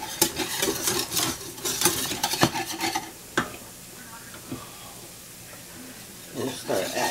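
A spoon scrapes and stirs a flour roux in a pan for smothered pork chop gravy, with soft sizzling and a few sharp clinks against the metal, loudest early and fading toward the end.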